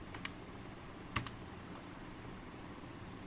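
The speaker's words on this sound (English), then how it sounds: "Afterward you have to type exit." A few light clicks of typing on a computer keyboard, with a sharper isolated key press near the middle, close and quiet in an otherwise still room.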